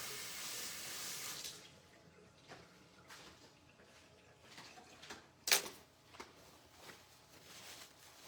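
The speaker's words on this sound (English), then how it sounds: "Let me just wash this brush, guys, real quick." A kitchen sink tap runs loudly for a second or so while a brush is washed, then gives way to quieter splashes, drips and a sharp clatter nearby.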